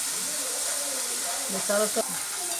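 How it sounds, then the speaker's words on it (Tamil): Sliced cassava chips frying in hot oil while being stirred, a steady broad hiss and crackle throughout, with a voice speaking briefly over it toward the end. "நம்ம கிண்டி விட்டால் பார்த்திங்களா சலசலான்னு சவுண்டு வருது"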